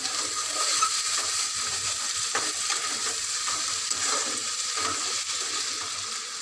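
Chopped tomatoes frying with ginger paste in a pan, a dense, continuous close sizzle with faint stirring scrapes underneath.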